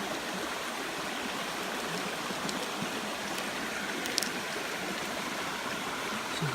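A river flows nearby outdoors, a steady broadband rush of moving water that stays even throughout, with a few faint higher splashes and no voices.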